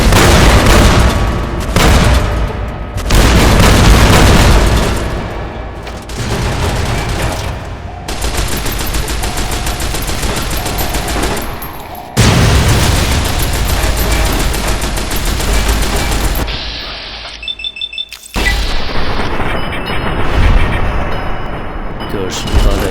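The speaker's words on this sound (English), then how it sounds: "Glad they explode into a million fucking bits." Loud repeated explosions and bursts of gunfire from the video game Fallout: New Vegas, heavy booms crowding one another over about twenty seconds with brief lulls, as someone talks over the combat.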